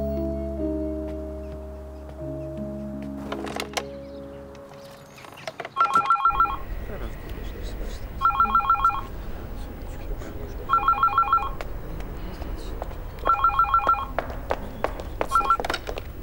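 An indoor telephone rings quietly in repeated electronic bursts of about a second, spaced a couple of seconds apart, after a short stretch of music that fades out, with low room noise and no talk.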